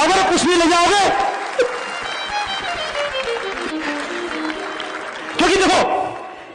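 An audience at a stage program in Chandigarh claps in two loud bursts, at the start and again near the end, with someone speaking and music playing between them.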